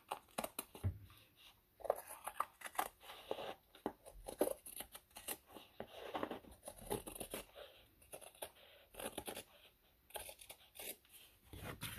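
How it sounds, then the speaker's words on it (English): Scissors trimming around the edges of layered paper on a junk journal page, giving a run of irregular, close snips and papery rustles that continue steadily with no talking. "we're just going to trim up around the edges."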